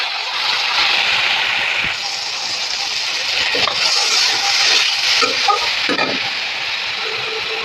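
Spices stirred into frying potatoes with peanuts and raisins in a pan for a Bengali fig ghonto: a loud, steady, close sizzle with scraping stirs of the spoon throughout.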